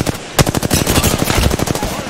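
Rapid automatic gunfire from a shooter video game, a loud, close, continuous stream of evenly spaced shots lasting about two seconds.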